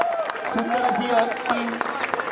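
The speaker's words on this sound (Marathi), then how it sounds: "एकदा जोरदार टाळ्या वाजवून तुम्ही अभिवादन करायचं आहे." Scattered clapping rises from an audience applauding the organising committee at a cricket tournament's final-day closing ceremony, heard under a man's loud amplified speech throughout.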